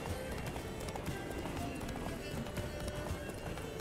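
A horse gallops in The Witcher 3: Blood and Wine, steady rapid hoofbeats running continuously under faint background noise.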